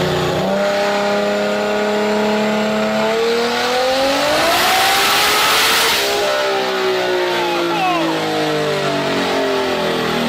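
A 1300 HP 2JZ-powered Polaris RZR accelerating hard on the street, a loud, close engine climbing through the gears with rising whine and shift breaks, voices shouting over the roar.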